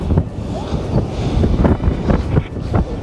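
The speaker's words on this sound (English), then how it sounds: "I'm taking some shelter from the wind." Wind at Crooklets Beach in Bude, a stony beach, blows steadily and loudly into the microphone with gusty rumbling buffets and no talking.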